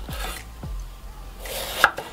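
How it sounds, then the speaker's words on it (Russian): A knife cuts through eggplant on a board, slicing it into rounds in a few separate strokes, with a firmer tap of the blade near the end. "И нарезаем кругляшками."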